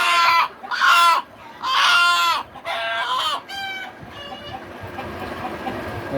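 Desi rooster clucking in a run of loud, close, harmonic calls with brief pauses between them, then fading into quieter farmyard background.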